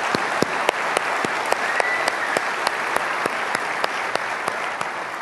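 Audience applause at the VMworld 2013 general session in San Francisco, a steady wash of clapping from a large crowd with sharp individual claps standing out, continuous and fairly loud throughout.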